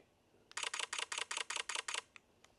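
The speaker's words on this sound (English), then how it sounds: "It's not a real shutter, it's a digital sound." A rapid burst of about eight crisp digital camera shutter clicks from a Sony ZV-E10 II, in even rhythm, followed by two softer isolated clicks, close and clear.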